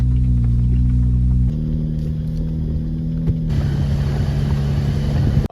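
Off-road vehicle engine in second gear climbing a steep hill of loose rock, a loud steady drone near the microphone whose pitch shifts in steps as the load changes, with no talking.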